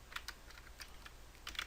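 Someone types on a computer keyboard nearby in a quiet room, with a few soft, irregular key taps.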